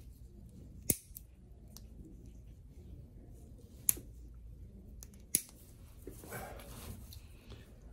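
Nail clippers cutting a thick, crusty diabetic toenail bit by bit, giving three sharp, isolated snaps spaced a few seconds apart over quiet room tone, with a brief faint rustle near the end.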